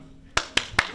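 A band conductor claps hands, four sharp claps spaced roughly evenly in a steady rhythm, close and loud over a faint low background hum.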